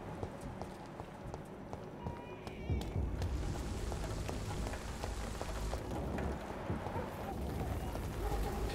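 Rain falls steadily on the streets of London in the video game Vampyr, a constant close patter with scattered drips and taps, growing denser partway through, with a low rumble and faint voice underneath.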